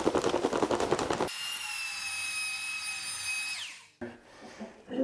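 A power drill with a paddle mixes thinset mortar for floor tile, a loud whirring whine holding steady near the mic before winding down, with scraping and knocking around it.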